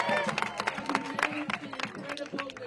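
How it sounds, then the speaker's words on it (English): Applause and clapping from a crowd at an outdoor No Kings protest march, a round of clapping with scattered cheers and busy crowd babble, fairly close and steady throughout. "Big round of applause for Bob, who made enough buttons for almost everybody here."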